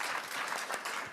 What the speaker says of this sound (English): Let's give a final applause for this panel.